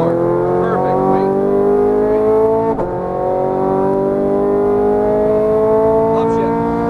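A Ferrari 430 Scuderia engine pulls hard at full throttle on a track, a loud, steady, rising harmonic wail with a brief dip near the middle. An instructor's voice talks over it.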